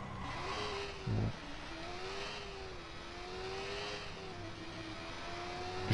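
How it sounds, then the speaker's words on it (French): Motorcycle engine in the video game Watch Dogs, a steady droning whir with shifting pitch as the bike rides on, moderately loud and continuous with a brief thump near the start. "Je trouve le son de la moto très moche."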